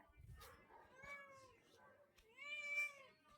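A cat meows several times in short, rising cries, fairly quiet and close, with faint background noise between calls.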